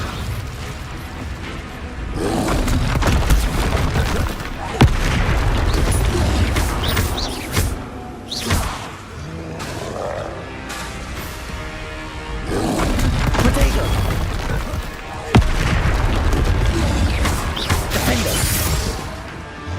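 Hogwarts Legacy spellcasting in combat: bursts of magical whooshes, crashes and roaring effects in loud waves with brief gaps, sharp impacts at intervals, with voices calling out over them.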